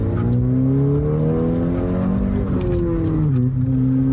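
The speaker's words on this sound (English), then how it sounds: "Alright, flooring it." A catless car engine revs hard under full throttle, a loud sustained roar whose pitch climbs and dips through gear changes, close and continuous for the whole stretch.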